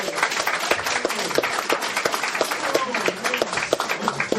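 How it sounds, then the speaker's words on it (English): An audience applauding a performer being introduced on stage: steady, moderately loud clapping with crowd murmur mixed in throughout. "Graham Thomas, give him a round of applause."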